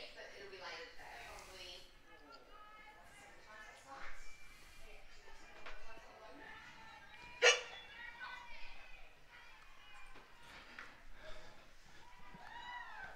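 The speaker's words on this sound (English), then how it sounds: "Bit of a hiccup here in the uh, commentary position." A sudden sharp hiccup right beside a cricket commentary microphone at a junior girls' international match, one loud abrupt burst amid murmured commentators' talk and faint background voices.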